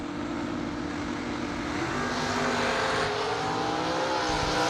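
Drag race launch of a red Sonoma and a 1987 Camaro Z28, a continuous roaring engine blast filling the whole stretch, loud and close with a slight rise in pitch.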